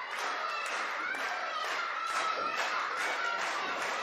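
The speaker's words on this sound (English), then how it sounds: "Listen to this crowd." A wrestling event crowd clapping and cheering, with a dense, steady wash of applause and voices and rhythmic bursts of claps rising throughout, loud and continuous.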